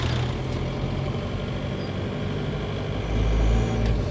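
A Jeep YJ with a swapped Volkswagen TDI diesel engine drives along, its steady engine drone and road rumble loud and close. A low swell near the end may be the grinding third gear.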